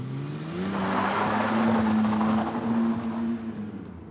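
A car engine pulls away and accelerates, its steady hum rising in pitch and holding loud and close for several seconds. No one speaks.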